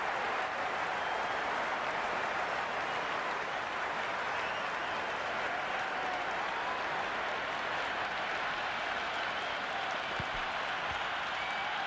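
Cricket stadium crowd at a T20 World Cup match between Australia and South Africa cheering and applauding, a loud, dense, continuous roar of clapping and voices that fills the whole stretch without a break.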